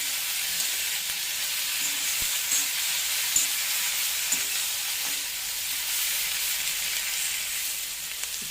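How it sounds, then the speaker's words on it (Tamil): Ivy gourd sautés in a pan with a soft, even sizzle and hiss, and a few faint ticks from stirring, all fairly quiet and with no talk. "கோவக்காய் ரெண்டு நிமிஷம் நல்லா வதங்கினதுக்கு அப்புறமா இதை வந்து நம்ம ஒரு மூடி போட்டு வேக வைக்கணும்"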